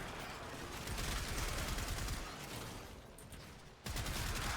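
Very rapid, continuous bursts of Komorex rifle fire from the character Harrow in the video game Warframe, dense overlapping shots with a brief dip before resuming, played without talk.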